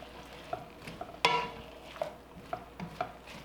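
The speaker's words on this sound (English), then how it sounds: "Now I just want to stir these in" Rinsed noodles being stirred in a pan, with intermittent light clicks and scrapes of a utensil against the cookware over a faint, steady sizzle, no voices.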